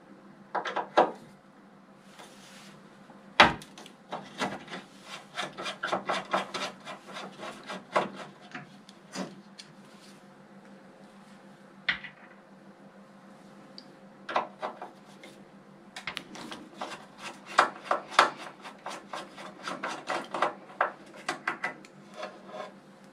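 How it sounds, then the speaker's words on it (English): Screws are taken out of a transformer cover with scattered close clicks, scrapes and rubbing taps. The sounds come in irregular clusters with quiet pauses between them, and no speech. "So I'll remove these two screws"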